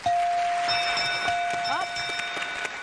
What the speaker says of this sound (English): That sound means time is running out.